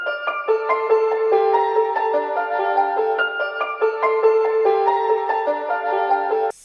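Melodic loop from a sample pack: a soft, bell-like synth line of clustered tonal notes in a bright mid register, playing continuously at even volume with no voices.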